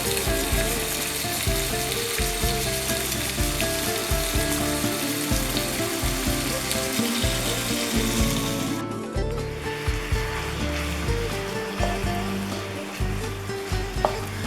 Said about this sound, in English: I would like to cook the shawarma on medium to high heat so as to sear the beef on all sides.